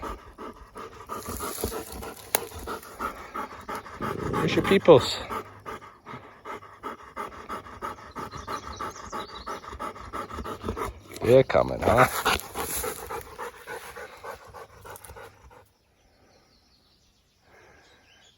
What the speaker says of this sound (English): You look like a nice dog.